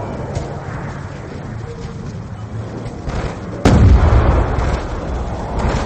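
A frag grenade goes off in Call of Duty Black Ops 2: a sudden, loud blast with a rumbling tail cuts through a steady wash of distant battlefield noise about two-thirds of the way in.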